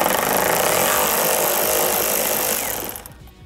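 A power tool whirs loudly and steadily while removing a bolt from a car headlight during an HID projector retrofit, then winds down and stops near the end.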